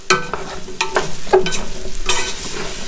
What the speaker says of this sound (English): just gonna start stirring that around and saute those down